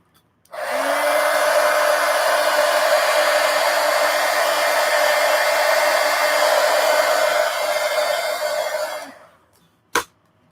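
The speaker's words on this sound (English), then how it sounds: "let's go ahead and dry that real quick with a heat gun" A heat gun drying wet paint on a colouring book page, a loud steady blowing whir that runs for about eight seconds, then winds down and ends with a single click.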